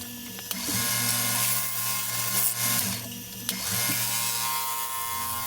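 A wooden bowl spins on a lathe under a carbide tool, a steady mechanical hum and whir with gritty cutting, two sharp catches or knocks partway through.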